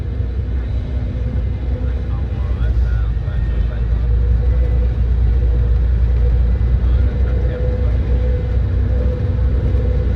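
A Plaxton sightseeing bus drives along a seaside promenade on the Llandudno to Conwy route, its engine a steady loud low rumble throughout with no break.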